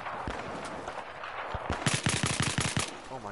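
Rapid bursts of video game gunfire, including a clear machine-gun volley of evenly spaced shots in the second half, loud and close, with scattered background game noise and no talk.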